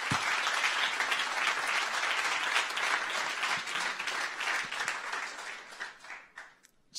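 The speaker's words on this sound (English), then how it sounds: "One round of applause for everyone here." At a Lisk meetup in Berlin, a room gives a round of moderately distant applause that holds steady, then thins out and fades over the last couple of seconds.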